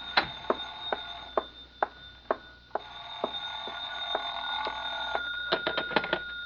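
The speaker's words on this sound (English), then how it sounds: "Oh, excuse me, the phone." An old telephone bell rings in a radio drama, sharp repeated rings spaced about every half second, then a faster cluster of rings near the end, close and clear over a quiet background.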